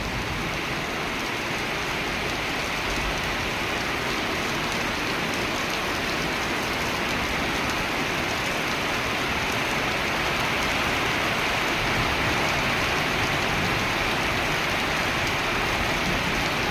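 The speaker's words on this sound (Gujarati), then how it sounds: "અને હવે કાંઈક વરસાદ પણ ઓછો થઈ ગયો મિત્રો" Heavy rain pours down in a dense, continuous hiss that stays loud and unbroken throughout, with no voices over it.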